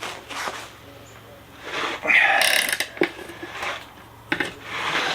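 A SUZUME extra-long flex-head ratcheting wrench clicks as it is cranked under heavy torque, with a crescent wrench on the other end; irregular close clicks and knocks come in bursts, with handling noise and a voice in the background.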